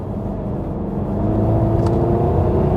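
Steady exhaust drone and whir from a supercharged Jaguar XK (X150) engine, held at a constant level that swells slightly louder halfway through, close and continuous with no talk.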